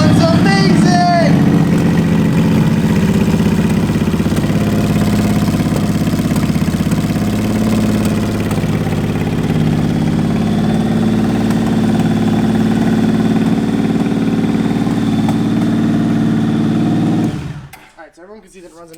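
A 1999 Honda Valkyrie motorcycle with 58,000 miles runs at a steady, loud idle, a deep rumbling drone that holds for about seventeen seconds before cutting off abruptly, with a brief engine burst at the start.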